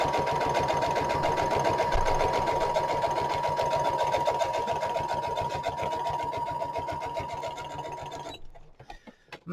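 A sewing machine stitches down the edge of a paper pocket made from old ephemera, a close, rapid, even needle rattle that runs steadily for about eight seconds and then stops.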